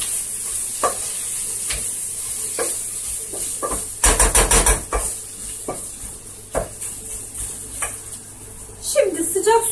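A leek dish in a pot being stirred slowly, with soft sizzling and scraping strokes, a brief clatter of utensil against the pot, and some background noise.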